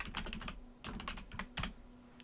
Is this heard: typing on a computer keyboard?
yes